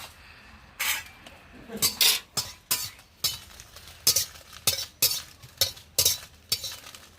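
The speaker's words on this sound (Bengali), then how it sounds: "প্রথমে আমি চারটে শুকনো লঙ্কা ভেজে নিচ্ছি" Four dried red chillies dry-roasted in a pan for a homemade mango pickle masala: repeated sharp scraping and stirring strokes against the pan in an irregular rhythm, close and fairly loud, with no talking.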